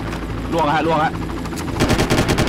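Rapid bursts of automatic gunfire in the video game Far Cry, rattling loudly in the final second after a stretch of game sound, with a voice heard briefly earlier.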